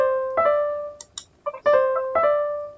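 Short melodic example of the acciaccatura ornament: quick crushed grace notes snapping into sustained tones, several phrases with brief gaps between them, clear and close.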